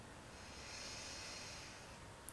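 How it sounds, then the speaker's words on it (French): Slow, quiet breathing through the nose during a calming relaxation exercise, a soft, steady airy hiss close by, ending with a brief sniff. "je vais respirer uniquement par le nez"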